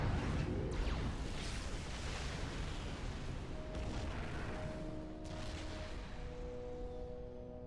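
Artillery turret shots from the strategy game Supreme Commander, a dense, continuous rumble of booms and scattered blasts over a steady roar, with no voices.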